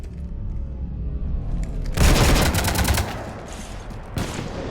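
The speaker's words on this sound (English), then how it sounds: "You want to stop shooting up my ship?" Gunfire in the Mass Effect 3 video game as a ship is shot up: a loud burst of rapid shots erupts after a quiet rumbling lead-in, then fades with a brief second flare near the end.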